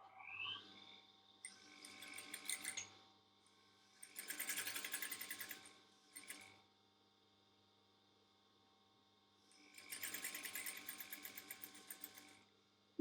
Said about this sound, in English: I'm then going to sew that down